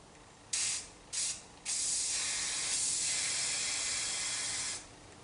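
A spray paint can, held well back, hisses onto a Dinky toy car being restored. Two short bursts are followed by a long, steady, close hiss of about three seconds that then cuts off.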